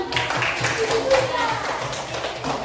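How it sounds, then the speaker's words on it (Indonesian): Students in a classroom clap briefly and unevenly while voices talk over them, the claps light and somewhat scattered beneath the chatter. "Tepuk tangan."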